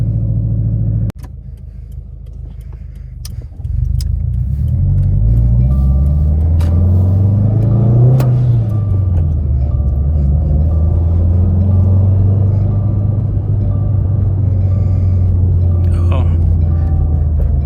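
A 2018 Subaru WRX fitted with a Tomei unequal-length header, driving on the road: a loud, throaty engine rumble that rises and falls through several revs and gear changes, with the cabin heard from inside.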